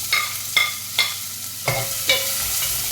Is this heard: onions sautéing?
yes